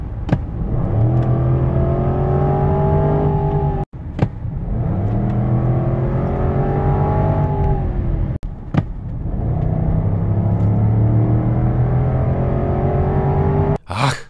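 Supercharged 5.0 V8 in a Range Rover Sport P525 revs hard through three long, loud acceleration pulls, each cut by a quick gear shift, heard up close with the engine note rising steadily.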